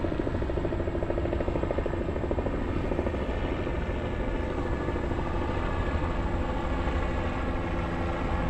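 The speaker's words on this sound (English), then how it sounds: "get to the chopper." A helicopter passes overhead above the Manhattan and Brooklyn waterfront near DUMBO, its steady rotor thrum loud and continuous for the whole stretch, with no talk over it.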